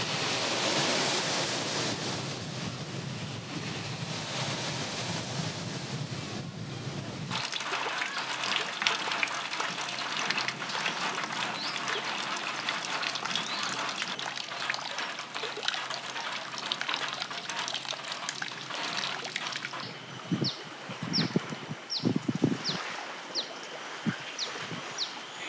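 Water at the village well of Kampung Salam, an Orang Asli settlement in Malaysia, makes a steady rushing, hissing flow that changes character partway through. Faint trickles and clinks come near the end.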